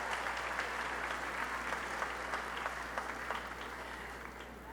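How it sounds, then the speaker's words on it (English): A convocation audience applauds the standing CAU fraternity members of Alpha Phi Alpha, Kappa Alpha Psi, Omega Psi Phi, Phi Beta Sigma and Iota Phi Theta at the 2019 opening ceremony, a dense, steady wash of clapping that holds throughout. "Let's give them another round of applause."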